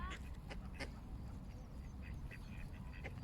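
Ducks quack in scattered bursts over a steady, noisy outdoor background, with faint voices mixed in.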